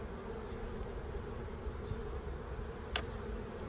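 Honeybees buzzing around an open hive while a box is added and cross comb fixed, a steady close drone filling the clip with one brief sharp tick near the end.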